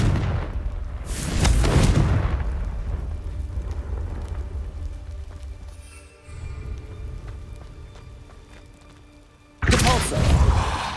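In Hogwarts Legacy, Confringo blasting spells hit with loud, booming explosions, one early and another at the end, while rumbling game noise and softer effects fill the gap between them.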